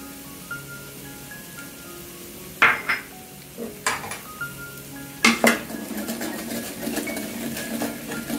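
Eggs seasoned with pepper and salt are scrambled in a pan for chicken fried rice. A spatula clanks and scrapes against the metal in irregular bursts over a faint, steady sizzle.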